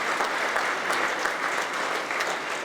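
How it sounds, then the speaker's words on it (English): An audience at a citizen of the year event gives a round of applause: many people clapping in a steady, bright, continuous burst lasting a few seconds. "Let's give them a round of applause."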